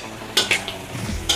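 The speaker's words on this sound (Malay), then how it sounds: "saya suka sangai dia seketika bagi air sotong ni keluar sedikit" Cuttlefish dry-fried in a wok is stirred with a utensil, giving a few sharp metallic scrapes and clinks over a faint sizzle, close and brief with no talk.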